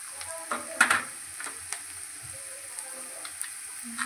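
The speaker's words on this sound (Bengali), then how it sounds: "পরিমাণ মতন নুন দিয়ে আমি এটাকে ভালো করে ভেজে নিই" Nigella seeds and turmeric frying in oil in a pan, a soft steady sizzle with a few light clicks and scrapes of stirring, fairly quiet and without any talking.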